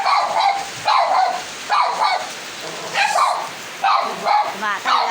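Dogs bark in repeated short bursts during heavy rain from a typhoon in Nueva Ecija, with a steady downpour hissing underneath the barks.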